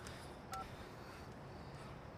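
A phone number is dialed on a mobile phone, heard as a single short, faint touch-tone beep over a quiet, steady room hiss.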